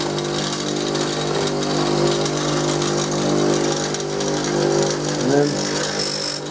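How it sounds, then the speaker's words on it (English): Bench grinder spinning a polishing mop loaded with a little wood compound, a steady motor whine and hum running throughout with slight load changes, close and fairly loud, a brief spoken word near the start. "bench grinder with a polishing mop on it. A little bit of wood compound."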